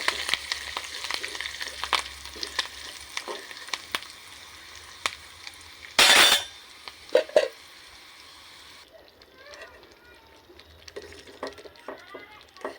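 Curry leaves dropped into hot oil for a tempering, a crackling close sizzle with stirring clicks, a sudden loud burst of spitting, then a quieter bubbling tail.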